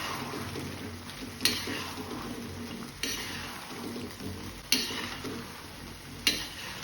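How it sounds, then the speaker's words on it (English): Fried gobi stirred in a sizzling pan for Gobi Manchurian, a continuous close frying hiss with regular scraping strokes and a few sharp knocks of the spoon against the pan, no speech. "Then add the fried"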